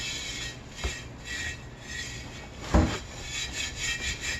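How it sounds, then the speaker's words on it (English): Rusty cast iron is scrubbed with baking soda in steady, gritty rubbing strokes, with a couple of sharper scraping knocks partway through. "I'll scrub it with the baking soda."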